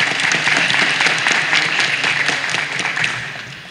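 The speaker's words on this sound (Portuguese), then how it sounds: "Peço uma salva de palmas a ela." Sustained audience applause at a coaches' forum, a dense steady patter of many hands clapping throughout, fairly loud and close, with no talk over it.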